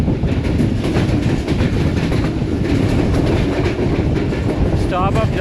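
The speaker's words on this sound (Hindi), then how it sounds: "ट्रेन हमारी इस वक्त मिस्सा कसवाल रेलवे स्टेशन से पास थ्रू हो रही है।" Railcar on the Gujrat to Rawalpindi line rolling through a railway station without stopping, a loud continuous rumble with rhythmic clatter of wheels over track joints and a brief squeal near the end, heard from on board.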